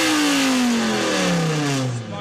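A BMW E46 M3 fitted with a V10 engine revs up and settles in one continuous, loud, close rising-and-falling engine note with a smooth harmonic whine.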